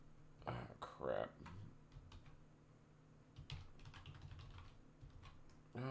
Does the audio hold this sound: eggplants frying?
no